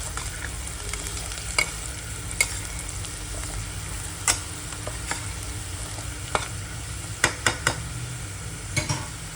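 Onion with turmeric and mutton masala stir-frying in a pan for a green mutton curry, giving a steady close sizzle broken by scattered sharp scrapes and taps of stirring, with no talking.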